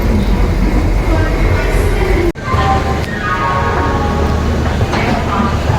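Netaji Express train pulling out of Howrah station at night, a loud continuous rumble of the moving train with a sudden sharp break and a rising tonal whine as it gets under way.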